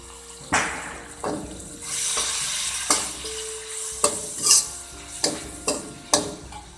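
Dark soy sauce sizzling in a stir-fry for a Chinese dish: a continuous hiss punctuated by regular sharp spatula scrapes and clanks against the pan, close and fairly loud.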